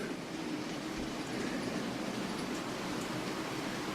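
An OO gauge Heljan Beyer Garratt model locomotive runs slowly with wagons, giving a faint, steady mechanical whirr and rolling hiss with no clear individual clicks.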